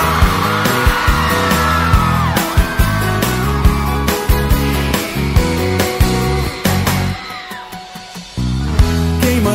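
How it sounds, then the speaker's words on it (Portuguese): A crowd at a sertanejo universitário DJ party yells and whoops over loud, pounding dance music, with shouts rising and falling in waves across the thumping beat. "Cadê o gritinho da galera?"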